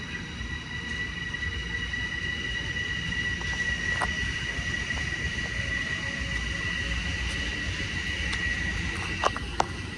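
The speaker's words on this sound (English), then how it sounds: "But there goes the train." A train rolls past continuously, a dense, loud rumble of wheels on rails with thin squealing tones and occasional sharp metallic clicks and clanks throughout.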